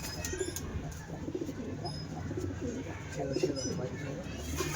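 Many domestic pigeons, Giribaj breed, coo in low, repeated throaty bursts close by, with a faint voice mixed in at times.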